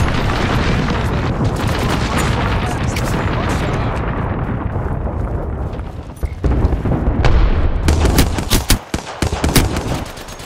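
Rapid, dense gunfire in the Apex Legends video game, loud and sustained bursts that thin out into sharp separate shots near the end.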